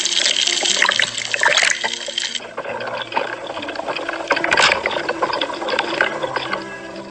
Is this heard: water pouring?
yes